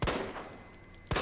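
SLS-60 handgun firing in the video game Resident Evil 2 Remake: two sharp, loud reports about a second apart, each followed by a decaying echo tail, with no talk.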